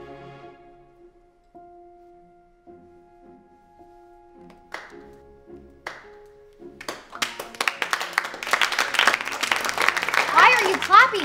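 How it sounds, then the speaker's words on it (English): Students in a classroom break into applause that builds over several seconds, rising in density and loudness into sustained, close clapping after earlier scattered taps and quiet voices. "Why are you clapping?"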